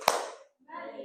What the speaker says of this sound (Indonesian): kita tepuk fokus dulu ya. Tepuk fokus.